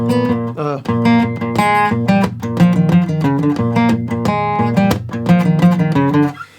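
A repeating guitar riff played with steady plucked notes and chords over a low bass line, loud and close, with no talking.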